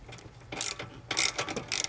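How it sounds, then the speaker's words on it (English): A ratchet loosens the set screws on a Tesla Model 3 wheel assembly, giving several quick bursts of close, rapid clicking separated by short pauses, with no talking. "So I'm just gonna loosen these two set screws, set bolts."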